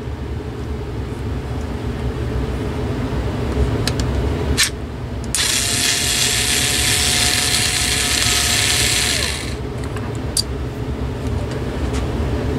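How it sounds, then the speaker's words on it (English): Screws are worked out of a small electric motor's casing with a tool, with several sharp clicks, then a steady whirring, ratcheting stretch lasting a few seconds, close up under a constant background hum and with no talking. "Now let's open the motor up."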